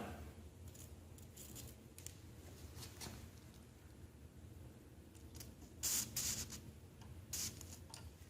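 Short hissing bursts from a spray can of lubricant on a Lawnboy snow blower chute sound several times at irregular intervals, mixed with quieter rubbing and handling noises close by.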